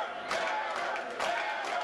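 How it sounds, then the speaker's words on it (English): Wrestling crowd at a live match chanting for Greg "The Hammer" Valentine, a loud, dense roar of many voices rising in rhythmic surges about once a second across the whole stretch. "They're chanting Hammer."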